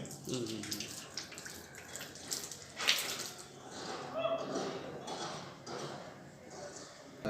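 Tap water runs and splashes during wudu ablution at a mosque during Ramadan, a steady close wash with faint drips and small bumps in the background.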